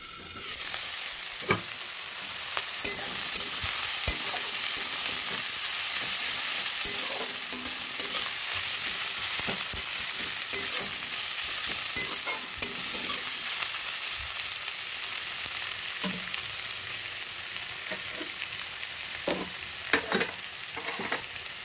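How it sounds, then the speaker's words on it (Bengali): Chickpeas and peas stir-frying in a pan for ghugni make a loud, continuous sizzle, with frequent scraping and clacking of a spoon against the pan as they are turned over and over. "এটাকে খানিকক্ষণ নাড়াচাড়া করে মাঝে মাঝে ঢাকা দিয়ে দিয়ে ভেজে নেব।"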